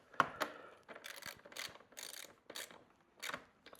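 A 10 mm ratchet socket wrench tightens the mirror bolts on a 2026 Yamaha R1, giving several short, close bursts of ratcheting clicks separated by brief pauses, fairly quiet with no talking.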